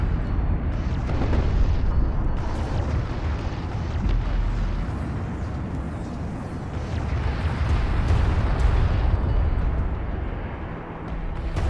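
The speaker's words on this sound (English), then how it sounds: "The Sakala is preparing to launch a cruise missile." A cruise missile launches and detonates in the desert strategy game Homeworld: Deserts of Kharak, a sustained loud roar of booming explosions and rumbling blasts rolling on for several seconds without a break.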